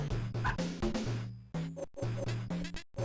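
A dog in the Amiga video game Fire & Ice gives repeated short, yippy, synthetic-sounding barks in a quick rhythm over game music.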